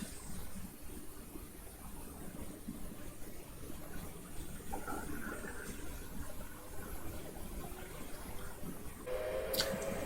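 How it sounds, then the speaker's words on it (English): Electric train in Train Sim World 2022 on the Chatham Main Line pulling away from Selling at throttle notch 3, a steady rumbling drive with rail noise throughout, and a brief high tone near the end. "as we start to accelerate from Selling, we use about throttle notch 3 for this"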